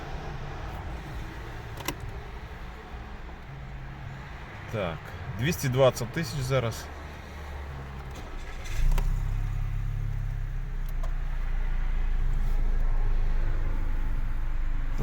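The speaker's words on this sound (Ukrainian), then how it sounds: "Зараз заведемо, подивимося, послухаємо, як працює наш двигун." A 2008 Audi A3 1.6 MPI petrol engine with automatic transmission cranks with a brief rough burst, then settles into a steady low idle rumble, with someone speaking briefly nearby.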